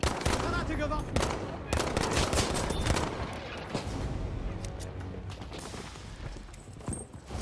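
Rapid assault rifle bursts in Battlefield 5 chatter almost nonstop in a dense, loud firefight, with overlapping shots and mechanical clatter; a voice may be faintly mixed underneath.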